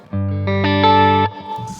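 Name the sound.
Music Man Valentine electric guitar, neck pickup, Stone Deaf SD-30 amp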